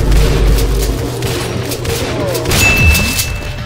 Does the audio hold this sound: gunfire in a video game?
yes